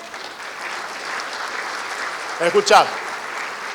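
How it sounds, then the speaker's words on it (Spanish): Audience at an agricultural panel session applauds with moderate, even clapping, and a single word is spoken over it near the end. "Un fuerte aplauso."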